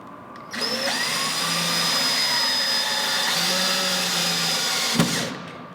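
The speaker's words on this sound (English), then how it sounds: "When I have it situated correctly, I'm going to screw in the screws." A power drill or driver runs steadily for about five seconds, close and loud, driving screws through a hinge on a wooden blanket chest, with a brief knock near the end.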